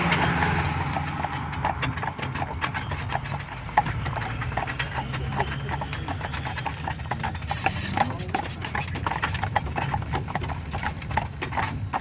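Hooves of a horse pulling an Amish buggy clip-clop in a steady, close trotting rhythm, joined by the rattle and creak of the buggy's wheels and fittings, with a brief whinny and faint talk underneath.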